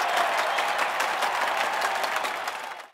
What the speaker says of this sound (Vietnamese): Chúng ta vỗ tay cho 6 người chơi đi à.